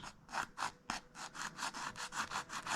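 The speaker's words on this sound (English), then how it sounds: "This is their sander." An Excel hobby sander works a workpiece in steady rhythmic back-and-forth strokes, about a dozen close, even rasping passes, loud and alone with no talk.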